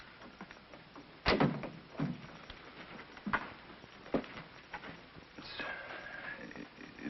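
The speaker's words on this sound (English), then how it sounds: "Close the door." A door in a 1951 film scene shuts with a sharp knock, followed by a few scattered bumps and shuffles in a hissy old soundtrack.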